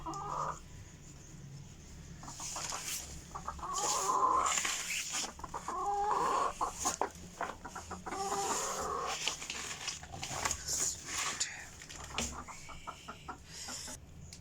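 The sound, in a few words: hens clucking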